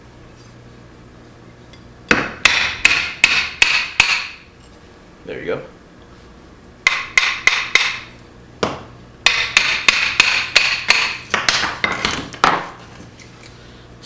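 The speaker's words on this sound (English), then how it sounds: "I'm just using this back end of a hammer" Back end of a hammer strikes the spine of a Gerber Profile knife, batoning it through wood: three bursts of sharp, ringing metallic blows in quick rhythmic runs, close and loud, separated by short pauses, with a brief spoken remark.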